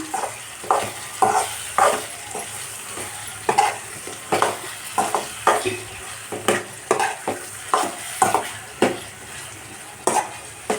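Repeated scraping strokes of a spoon stirring curry in a pan, with a steady sizzle of frying underneath and occasional metallic clinks.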